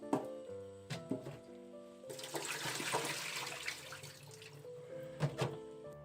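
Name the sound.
rinsing cauliflower under running water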